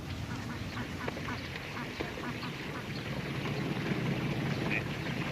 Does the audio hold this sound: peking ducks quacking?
yes